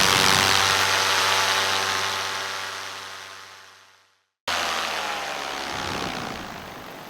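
A paramotor's engine and propeller drone loudly in flight, a steady buzzing hum that fades down to silence for a moment, then bursts back to full power and holds.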